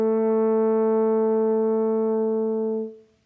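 A French horn sustains a single open-fingered E, the note on the bottom line of the staff, as one steady, full tone held for about three seconds before tapering off, played alone without any voices.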